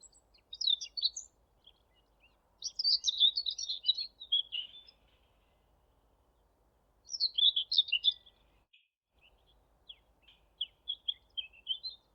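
Songbirds such as nightingale, wren and goldfinch sing outdoors in bursts of bright, high chirping and trilling phrases separated by quiet gaps, with clear but moderate loudness and no talking.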